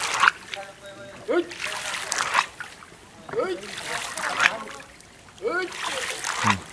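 Water splashes and sloshes in bursts as people go under to tie a rope to a giant boat, talking and calling out over it, the splashing rising and falling in waves.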